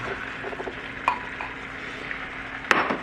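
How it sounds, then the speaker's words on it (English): Chicken frying with spices in a pan as tomatoes go in, a steady sizzle underneath with a few spoon-and-pan clinks and a short burst of clatter near the end. "Now I will add the tomatoes"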